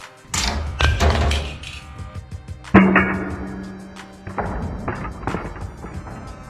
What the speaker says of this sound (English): Round number 2, corner drop.